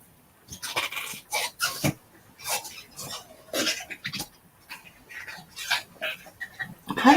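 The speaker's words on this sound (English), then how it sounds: "The noise you can hear in the background is the dog chewing his toy." A dog gnaws and chews on his toy indoors, giving off a steady string of irregular wet crunching and squeaking bursts at moderate volume, each lasting a fraction of a second and close to the microphone.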